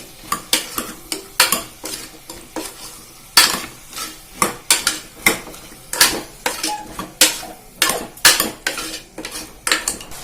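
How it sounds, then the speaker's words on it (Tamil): A spoon stirs chow chow vegetable kootu in a metal pot, giving repeated scraping and clinking strokes in an uneven rhythm, close and fairly loud with a soft sizzle underneath. "இப்போ நல்லா கலந்து விட்டுருங்க."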